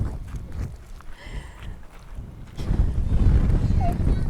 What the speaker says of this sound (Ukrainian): Вітер сьогодні ще більший.